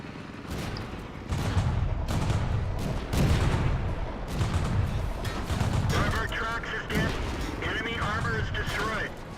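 Incoming gunfire in World of Tanks on a hillside: repeated loud shots and thuds land every second or so over constant engine rumble, with a voice speaking faintly underneath.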